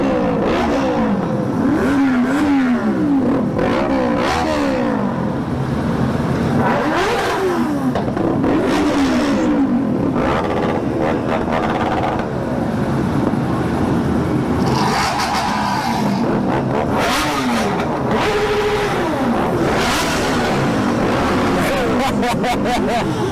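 A large group ride of about 75 Kawasaki motorcycles, including ZX-10, ZX-6 and Ninja 650 sport bikes, out in the rain: engines rev and surge continuously, with repeated throttle blips and bikes rolling past up close, loud throughout.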